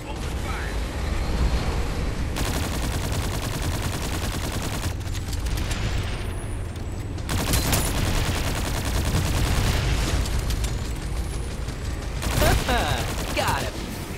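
Dense, loud bursts of automatic gunfire and explosions in the shooter game Farlight 84, sustained rapid fire that cuts in and out across the stretch, with game voice lines heard over it.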